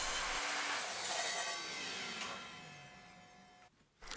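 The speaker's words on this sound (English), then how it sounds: "I squared up one end and then cut a couple of inch slither off." A saw cuts a slice off the end of a wooden scaffold board, a steady close rasping drone that fades slightly and stops abruptly, followed by a brief clatter.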